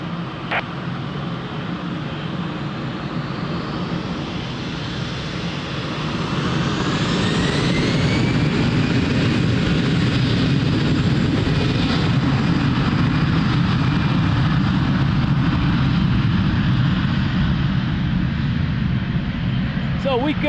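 An airliner takes off at Lisbon Airport, its engine roar swelling from a steady rumble into a loud, sustained thrust that stays strong to the end.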